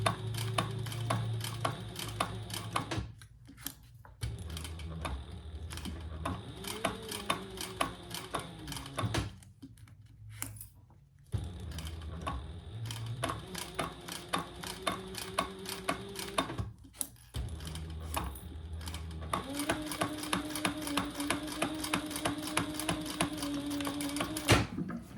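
A sewing machine stitches slowly through thick shoulder-bag seams, a continuous mechanical whir with rapid needle ticks, pausing twice briefly and speeding slightly toward the end, close and steady with no speech.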